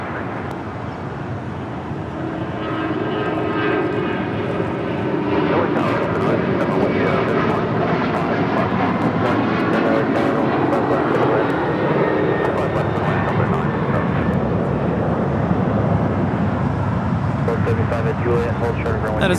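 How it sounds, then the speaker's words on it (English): An American Airlines Boeing 737-800 takes off from a runway at Los Angeles, its jet engines building to a loud, steady roar that holds throughout, with faint radio chatter underneath. "2332 taking off to Indianapolis on a 737-800."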